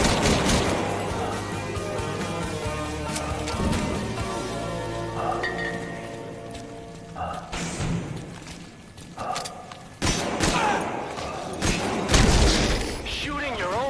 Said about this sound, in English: Shooting your own men.